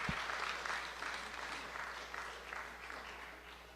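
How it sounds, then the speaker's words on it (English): An audience claps during a group bat mitzvah ceremony, a soft, distant patter of steady applause that continues throughout without speech. "Yes, you can get a clap."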